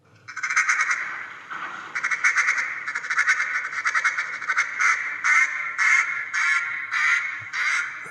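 A hand-blown duck call runs a warm-up routine, a loud, fast power chatter of rapid quacking pulses that breaks into a series of separate, evenly spaced high hen quacks, played close with no voices.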